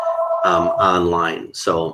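Office telephone ringing in a tech office, a steady electronic tone at the start that gives way to someone talking over it.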